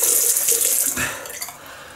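Warm water runs steadily from a tap to rinse a shavette razor, splashing close up with a few brief shifts in the flow.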